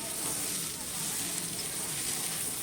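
Garlic and green chillies fry in a pan for sidol with a steady, close hiss of sizzling oil that runs evenly throughout.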